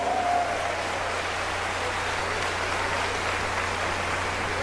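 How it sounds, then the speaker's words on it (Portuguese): A church congregation applauding, a steady wash of many hands clapping at once that carries evenly for several seconds over a low room hum. "Pode dar salva de palmas ao Senhor"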